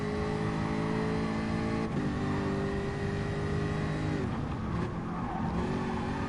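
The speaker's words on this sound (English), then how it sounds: "You can also hear that supercharged engine of the Jaguar from this camera." A supercharged Jaguar race car engine at Suzuka, from a World GT Series endurance finale, wails loud and steady with sustained high revs, a brief lift near two seconds and a gear change toward the end, with no talk.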